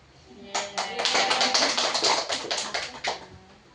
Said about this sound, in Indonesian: 1 kali tepuk atas, 2 kali tepuk bawah, 2 kali tepuk atas, tepuk angin.